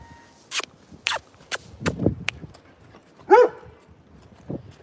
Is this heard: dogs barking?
yes